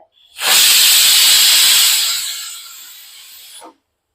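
A pressure cooker's whistle on full gas flame, cooking moong dal, releases a loud rush of hissing steam for about three seconds, easing slightly before stopping abruptly.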